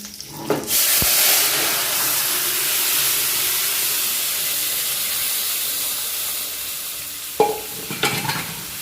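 Green chillies dropped into hot oil sizzle and hiss loudly, with a sharp burst at the start and a steady frying crackle after, plus a few stirring clatters near the end.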